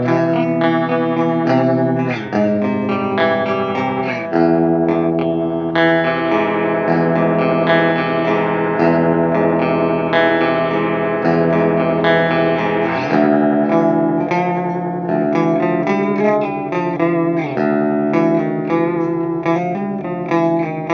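Guitar chords played through a pitch shifter pedal raised five steps, sustained and dense with an effected, slightly warbly shimmer, loud and continuous with no talk.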